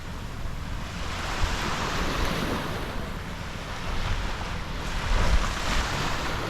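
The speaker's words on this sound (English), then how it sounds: "this is how peaceful it is here. You just hear the waves." Ocean waves washing onto the beach at Boracay, a steady broad surf wash with gentle swells and some wind buffeting, with no voices.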